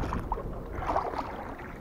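Someone rows a wooden boat on open water, soft splashes and dips of the oars in a loose rhythm, faint and close under wind noise on the microphone.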